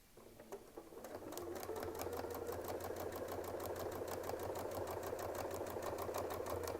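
Domestic sewing machine stitching crosshatch lines across a quilt medallion, a fast even run of needle clicks over a steady motor hum, starting after a brief pause and running continuously, close and fairly quiet.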